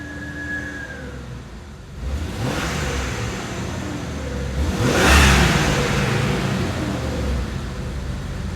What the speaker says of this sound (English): Smooths out when you give it a little throttle.